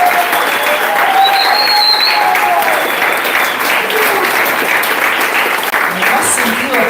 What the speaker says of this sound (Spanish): le damos un fuerte aplauso para ir a los cabezazos